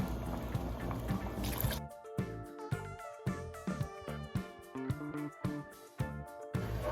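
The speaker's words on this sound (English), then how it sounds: "So I'm going to go ahead and I'm going to add my coconut milk." Coconut milk poured into a pot of fully cooked hominy corn for Jamaican porridge, a close liquid stream with dripping and trickling that fills the pot, over a few seconds.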